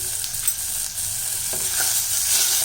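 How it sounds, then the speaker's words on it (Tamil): Tomatoes with turmeric and a little salt sauté in a pan for garlic rasam, giving a steady soft sizzle with a few faint stirring scrapes. "இதை நல்லா வதக்கணும் இந்த தக்காளி வந்து நல்லா வதங்கி வரணும்"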